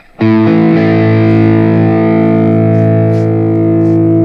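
A single sustained chord rings out on a heavily distorted electric guitar, loud and bright, slowly decaying with a gritty edge.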